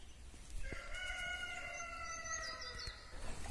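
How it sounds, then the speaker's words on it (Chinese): A sturdy free-range rooster crows once in the grounds of an abandoned hilltop state-run machinery factory with brick workshops, a loud, clear, drawn-out call standing alone over faint background noise. "这儿还散养着公鸡，这个公鸡挺健壮的"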